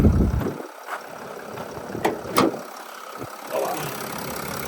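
A 2021 Mercedes Sprinter 319 extra-long van idles steadily with its hood open, a close, even engine hum with a few brief clicks and light mechanical ticks over it.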